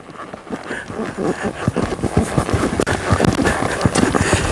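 Rapid, uneven hoofbeats thud and clatter close by as a horse moves forward at pace, with wind-like rustle underneath.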